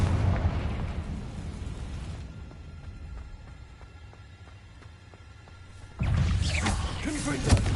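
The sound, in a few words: Confringo fire spell explosion in Hogwarts video game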